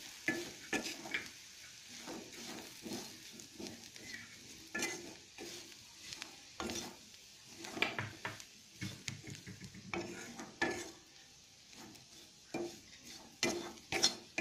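Masala for potato kulambu being sautéed, frequent spoon scrapes and clinks against the pan over a faint sizzle, close and fairly quiet, no talking.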